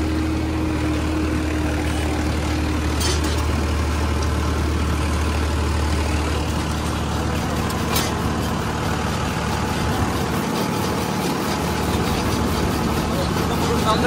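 A Farmtrac tractor engine drones steadily under heavy load at high RPM, pulling a 42-blade rotavator set deep into the soil. The low rumble is loud and close, holding constant throughout with no speech.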